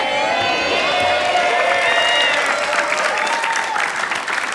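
Studio audience applause on an Indonesian TV variety show, a dense steady wash of clapping with some cheering mixed in, loud and continuous for several seconds before thinning slightly at the end.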